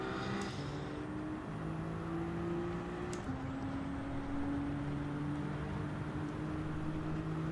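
A race car engine in Gran Turismo 7 hums at a steady pitch, shifting up a gear midway and holding a constant drone with no voices over it.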